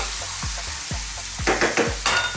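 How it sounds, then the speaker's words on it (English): Tomato and mushroom gravy for a mushroom peas curry bubbles in a pan with a steady sizzle, while a spoon stirs and scrapes in a regular rhythm, close and clear, with no voices. "Stir it every now and then for about sort of another 4 minutes."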